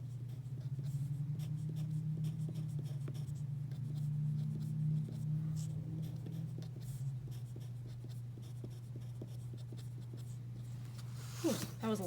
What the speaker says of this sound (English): That was a lot of drawing.